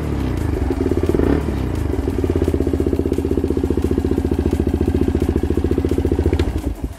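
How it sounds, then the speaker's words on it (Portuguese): Daelim motorcycle engine idling with a fault, a steady fast mechanical clatter ticking evenly like a clock over the low engine hum, close and continuous throughout. "dou à ignição e foi basicamente isto"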